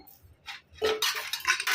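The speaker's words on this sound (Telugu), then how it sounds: "ఇప్పుడు మూత పెట్టేసుకుంటాను" Metal lid set down onto a cooking pot of lentils and water, giving a couple of close clinks and clatters of metal against metal, with no talk.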